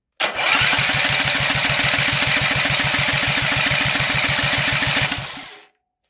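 Electric starter spinning a Predator 212 small engine fitted with a GX200 racing flywheel and starter ring, with no fuel connected: a steady, rapid chugging whir that runs for about five seconds, close and loud, then winds down.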